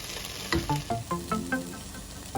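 Okra frying with onions in a pan, a steady sizzle with periodic stirring scrapes and clinks, close and moderately loud, no voices.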